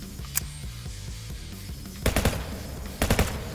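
Gunfire in the VR game Hard Bullet: a single shot early, then two sharp three-round bursts of rapid shots a second apart, loud over a low game backdrop.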